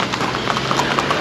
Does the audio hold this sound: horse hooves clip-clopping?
yes